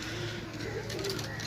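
Pigeons coo softly in a short burst of low, rounded calls, fairly faint against a steady background hum.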